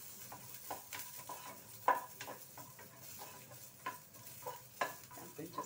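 Green chillies frying in a pan for a restaurant-style idli and dosa chutney, a soft sizzle broken by intermittent stirring scrapes and clinks of a utensil against the pan, quiet and close.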